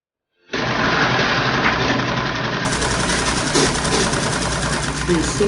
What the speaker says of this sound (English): you continue sewing by ½ inch